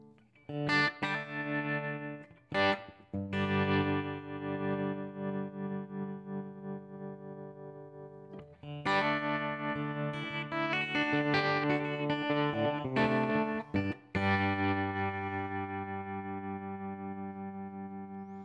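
Guitar chords through a stereo tremolo effect ring out with a pulsing, wavering volume that moves back and forth between the stereo channels, heavily processed, sustained notes swelling and fading in a steady rhythm, no voices.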